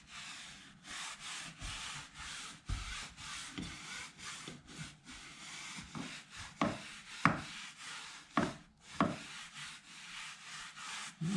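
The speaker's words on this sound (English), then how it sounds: "soft brush to not only work it into the fabric, but also into those seams" A soft brush scrubs ceramic protectant into the seat fabric and seams of a 2022 Ford Maverick, making repeated close, rhythmic rubbing strokes with brief pauses between passes.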